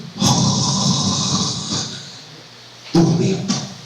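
A male preacher's voice imitates snoring, giving two rough, rasping snore-like bursts separated by a short pause.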